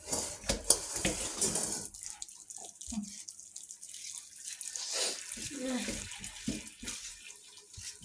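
Hot water runs from a household tap, a close splashing, hissing flow that surges and drops with clinks of dishes and brief murmured speech.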